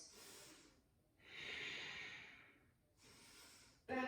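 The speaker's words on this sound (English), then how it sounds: "Deeper jelly breaths" Slow, deep breaths in a yoga flow class: a long airy inhale or exhale in the middle, framed by softer breathing, with a sharper snort-like breath at the very end, close and fairly quiet.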